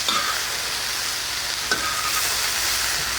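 Thai Chinese mustard greens (phak kan chong) hit a hot pan and stir-fry with a steady, loud sizzle and hiss, with a faint scrape of stirring near the middle.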